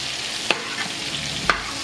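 A seasoned turkey wing frying in a hot pan, a steady close sizzle marked by two sharp clicks or taps about a second apart, with no talking.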